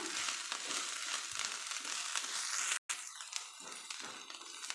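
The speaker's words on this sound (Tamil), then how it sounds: "வாசனைக்கு நல்லா கொத்தமல்லி தலை நல்லா வணக்கிக்கலாம்" Coriander leaves sautéing in a pan with bottle gourd peel, a steady crackling sizzle with brief scraping stirs and a short silent gap near the end.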